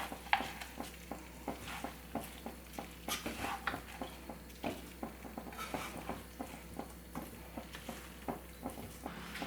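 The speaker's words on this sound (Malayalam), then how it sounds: "ഇതുപോലെ ഇളക്കിയെടുക്കുമ്പോൾ റൈസ് പൊട്ടിപ്പോകാതൊന്ന് ശ്രദ്ധിക്കുക" Basmati rice being stirred gently in a pot for chicken pulao, with steady rhythmic scraping and soft scooping strokes repeating close by over a faint background sizzle.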